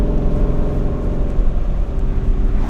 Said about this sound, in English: Watch how it handles these corners when I downshift.